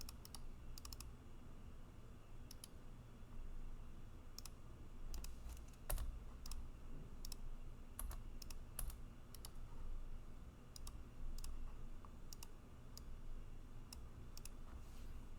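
Keyboard typing and clicks at a computer, a steady scatter of close taps and clicks over a faint room hum, with no speech.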